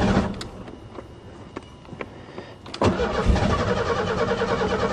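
A car engine on a farm cranks repeatedly with short bursts, catches briefly, then roars up loudly near the end, sounding close and rough; the engine won't stay running and keeps starting and dying.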